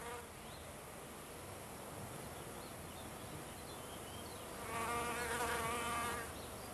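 A male wasp buzzes and flies around wild Ophrys orchids, a faint steady drone that swells louder for a moment as it passes near, over a hissy outdoor background.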